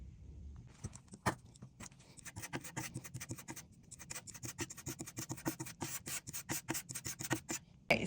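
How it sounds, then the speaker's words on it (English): Wood putty is worked into the surface of a piece of furniture being refinished, giving close, quiet scraping and rubbing strokes in an uneven rhythm with short sharp taps between them. "So I'm gonna go ahead and start putting putty on them"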